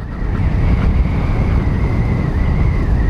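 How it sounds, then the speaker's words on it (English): Strong wind blasting against a rider on a motorcycle tour through the rugged Ladakh terrain, a loud steady roar of buffeting air with a faint whine from the engine underneath and no pauses. "There is a lot of wind blast."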